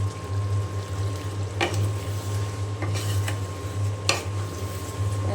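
Pieces of pointed gourd and potato tipped into a pot of braised beef, with a few sharp clinks of utensil against pot over a low steady hum and faint sizzle, close and fairly quiet.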